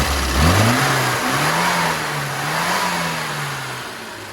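Tuned classic Mini engine revving out on the road after an ignition advance change, a single mid-pitched rise in revs that then holds and wavers steadily as the car pulls, close and fairly loud over road noise.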